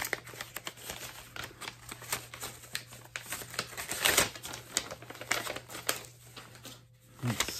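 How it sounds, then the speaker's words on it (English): Paper envelope being torn and opened by hand for a CD exchange package, giving a run of close, dry crinkles and rips with one louder tear midway, no talking. "Open up this envelope here."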